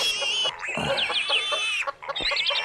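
Chickens cluck and chirp continuously in close, busy bursts, with no talking.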